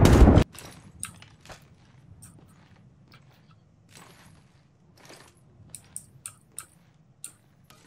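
Gunfire in the Apex Legends video game: one loud burst at the start, then scattered sharp clicks and shots spread unevenly across the rest, mostly faint.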